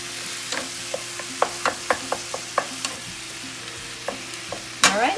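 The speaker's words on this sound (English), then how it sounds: "Give it a little stir." Bubble and squeak frying in a pan is stirred with a utensil, a soft sizzle running underneath a string of distinct scraping and tapping strokes, then one louder scrape at the end.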